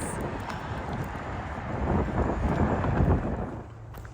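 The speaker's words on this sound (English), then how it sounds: "It's a little windy." Steady wind buffeting the microphone on the Lone Star Hiking Trail, a continuous loud rushing roar that swells slightly midway and eases at the end, with no talking.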